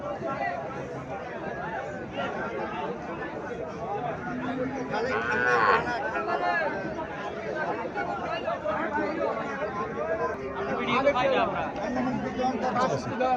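A Friesian cow moos several times, long and wavering, amid chattering voices and crowd noise nearby at a cattle sale.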